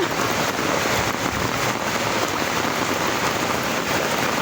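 Heavy rain pours without pause during a flood in a residential subdivision, a dense, loud and constant hiss of drops hammering surfaces with no voices over it.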